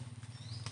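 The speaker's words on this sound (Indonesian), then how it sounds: "Hujan walaupun gerimis" Light afternoon drizzle patters on a village plantation trail in Kamuning, Matenggeng. A brief, soft, even pattering sits over a low, faint hum, with no voices.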